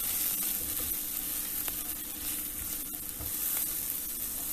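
Onions and grated ginger frying in a pan, a steady soft sizzle with faint stirring scrapes, close and fairly quiet, no voices.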